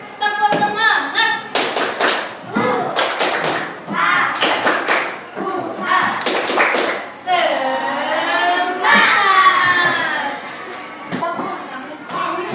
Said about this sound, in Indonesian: Kita cek semangatnya dulu. Tepuk semangat.